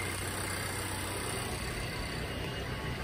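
A brand-new 2019 Subaru Impreza's 2.0 liter engine idles quietly and evenly under the hood, a soft steady hum heard alone without talk.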